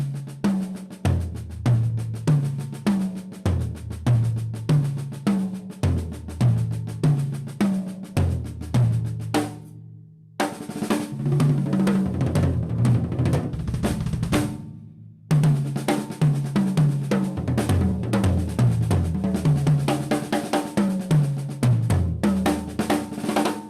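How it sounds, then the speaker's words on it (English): Tuned drum tom-toms arranged 12, 10, 16, 14 are played in repeating rolling patterns at a drum festival, loud and close, with two brief pauses between phrases and no talking. "And that's when I made changes with my tom-toms."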